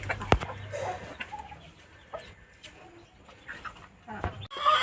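Native hens cluck faintly in the background amid quiet farmyard noise, with a few short clucks and scattered knocks, a voice briefly heard nearby.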